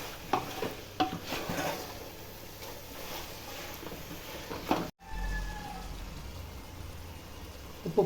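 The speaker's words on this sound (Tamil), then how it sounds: "நல்ல எண்ணெயிலேயே வதங்கட்டும்." Chicken biryani ingredients sautéing and being stirred in sesame oil in a pot, with steady sizzling and scraping stirs throughout, a brief break midway, then quieter frying with a few clinks.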